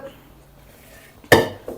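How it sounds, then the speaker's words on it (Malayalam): A biryani pot is handled on the stove, giving one sharp metallic clank after a quiet moment, loud and close, then a softer knock as it settles. "ഒരു ബിരിയാണി പോട്ടെടുക്കേ"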